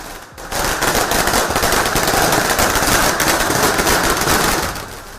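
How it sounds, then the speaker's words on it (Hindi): Celebratory fireworks at the BJP office in Raipur after an election win: a loud, dense barrage of rapid crackling bangs that runs continuously for several seconds before tapering slightly. "रायपुर में बीजेपी के दफ्तर में आतिशबाजी शुरू हुई।"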